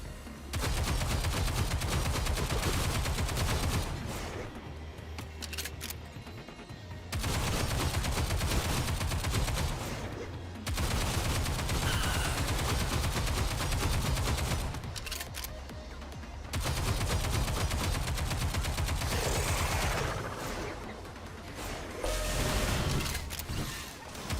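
Sustained bursts of rapid automatic gunfire from the video game Stellar Blade, loud dense volleys lasting several seconds each, separated by brief quieter pauses.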